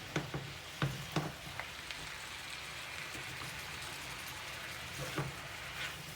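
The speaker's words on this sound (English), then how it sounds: "I'm just going to stir fry that for like 3 minutes now" Chicken teriyaki noodles and vegetables stir frying in a pan, heard as a steady close sizzle with occasional sharp clacks and scrapes of stirring, without talking.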